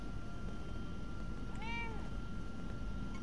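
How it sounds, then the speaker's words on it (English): A cat in the video game Fallout 4 gives one clear meow at mid-distance over a steady background hum of game ambience. "I hear the kitty."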